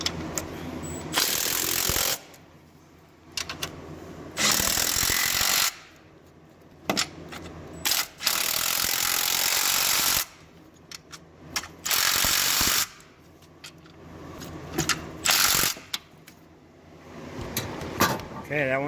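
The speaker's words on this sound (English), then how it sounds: "you can start to tighten the transmission bolts" On a K20 engine swap into an SW20 MR2 with solid mounts, a hand tool works on the transmission bolts in several loud, steady bursts. Quiet gaps fall between the bursts, with clinks and shuffling in them.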